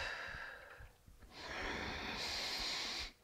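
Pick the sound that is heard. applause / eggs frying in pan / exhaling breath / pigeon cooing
exhaling breath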